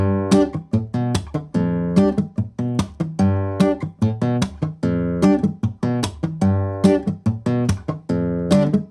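A faster run of a percussive acoustic guitar groove, with quick strummed chords and sharp dead-note clicks in a tight, repeating rhythm, played close with no talking.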